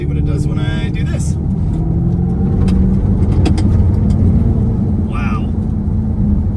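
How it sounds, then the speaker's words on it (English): A steady simulated engine drone from a 2024 electric Dodge Charger hums inside the car, continuous and fairly loud, with a few brief higher tones and faint voices mixed in. "From where I'm sitting, it just sounds like an engine."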